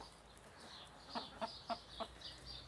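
Farmyard chickens cluck softly while pecking at berries and watermelon, a few short, evenly spaced clucks close by over a quiet outdoor background.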